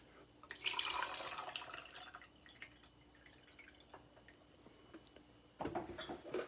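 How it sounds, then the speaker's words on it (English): Vinegar poured from an opened bottle over an egg in a cup, a bright splashing pour that starts strongly, thins into scattered drips, then surges again near the end, fairly close and with no talking. "I'm going to open this vinegar and I'm going to pour it on top of the egg."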